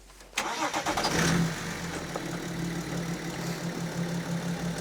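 A BMW E92 with a diesel engine, an M57 tuned to stage 2, cranks briefly and catches with a loud start, then settles into a steady, slightly knocking idle, close and alone.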